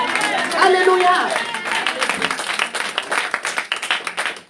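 A French-speaking church congregation acclaims with raised voices, then breaks into steady rhythmic clapping that carries on, with voices mixed in throughout.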